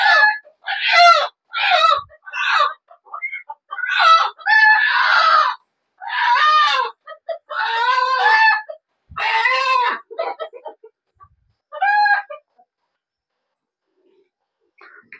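A village rooster crows repeatedly in loud, strained, close bursts, about a dozen broken calls in rapid succession, then falls silent.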